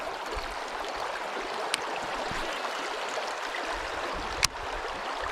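River rapids in Iowa roar continuously, a dense steady hiss of rushing water close by, with a couple of brief clicks and no voices.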